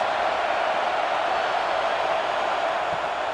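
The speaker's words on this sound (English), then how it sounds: "This crowd trying to make life miserable for this offense." A football stadium crowd roars during a third down in an FFL game, a loud, unbroken wall of noise that holds steady throughout.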